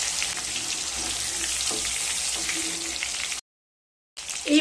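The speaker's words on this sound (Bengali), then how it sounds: "এইভাবে সমস্ত পনিরগুলোকে ভেজে নেব" Paneer pieces frying in hot oil give a steady, bright sizzling hiss that runs unbroken, cuts out briefly near the end and then resumes.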